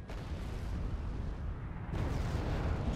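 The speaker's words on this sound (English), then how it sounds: "And more mortar fire." Mortar fire in the real-time strategy game Wargame: Red Dragon, a continuous roar of rumbling booms and bursts that swells louder partway through, with no talk.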